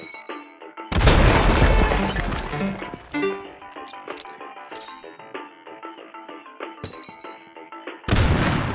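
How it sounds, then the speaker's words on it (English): A grenade goes off in the VR shooter H3VR with a loud, broad boom, followed by scattered debris rattles and clinks, then a second sharp blast near the end. "here, you just toss and watch the boom"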